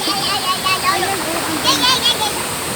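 Strong rushing river current near a beach in Baler, a loud continuous roar of water with splashing, people talking faintly underneath.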